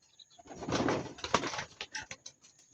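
Racing pigeons at a loading station before a year-end race give soft, low coos and murmurs with a wing flutter or two, close by and moderately loud, with no talking.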